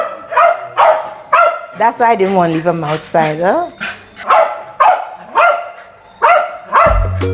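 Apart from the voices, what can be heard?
puppy barking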